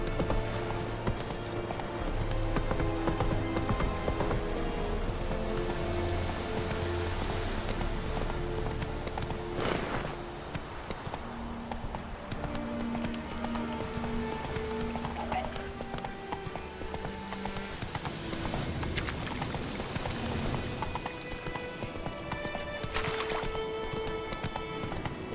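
Roach, a horse in The Witcher 3, gallops with rapid rhythmic hoof clip-clops under game music, continuing throughout with a voice speaking briefly over it.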